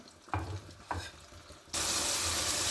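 Shawarma meat pieces are placed into a hot frying pan, first two short clanks and stirring sounds, then a loud, sudden burst of steady sizzling that continues to the end.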